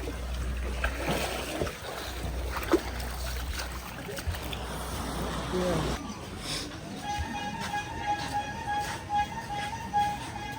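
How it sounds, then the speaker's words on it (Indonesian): A boat heading to Bangsal, Lombok carries a steady engine drone and water wash, with people talking over it and a thin high tone later in the ride. "Kemudian kita lanjut naik kapal secara pribadi menuju ke Bangsal Lombok."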